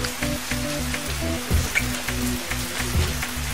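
Steady rain falls outdoors on open land, a dense continuous patter with broadband wash and a few louder thumps, under a low tonal background hum.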